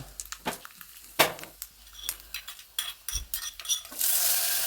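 Ingredients for parippu erissery, a lentil curry, are fried and stirred in a pan, with repeated scraping clinks of a spoon against metal over a light sizzle that grows into a steady hiss at the end.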